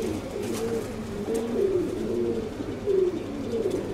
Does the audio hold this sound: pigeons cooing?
yes